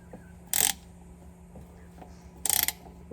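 A ratchet wrench torques an oil filter during a DIY car service, giving two short bursts of rapid, even clicking about two seconds apart, close and fairly loud against a quiet garage hum.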